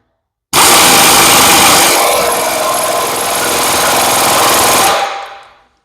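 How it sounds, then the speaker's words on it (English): Impact wrench tightening a crimped lock nut on a Woods Equipment Groundbreaker hydraulic cylinder: one loud, continuous hammering rattle lasts about four and a half seconds, then stops abruptly and fades out. "Hook our impact back up."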